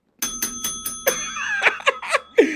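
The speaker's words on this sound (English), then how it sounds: "Ring the bell. Ring my bell." A bright bell rings in a quick series of evenly spaced dings, clear and close, followed by livelier irregular rings, with no talking over it.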